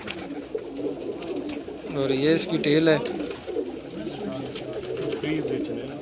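A pigeon coos softly and repeatedly in low murmurs nearby while someone talks over it.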